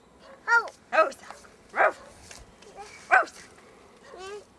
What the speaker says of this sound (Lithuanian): Pririštas šuo.